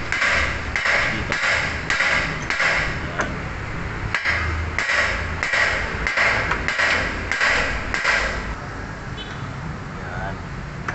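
A hammer strikes repeatedly on a steering ball joint of a 2014 Mitsubishi Mirage to knock it loose, a series of sharp metallic blows in uneven bursts, close and loud, with someone talking over them.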